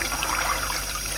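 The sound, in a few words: water poured into a saucepan of soaked beans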